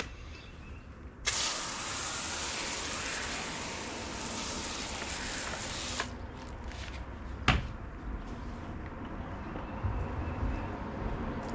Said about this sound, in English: I'm going to go another pass with the brakebuster on the tire